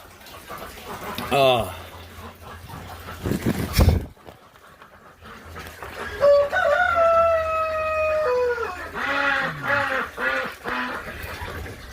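Chickens cluck and call with a drawn-out crowing note, while a person talks nearby over a low steady hum.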